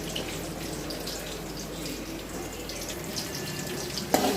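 River fish being rinsed in a pot of water, a steady close splashing and trickling wash that ends in a sharp knock.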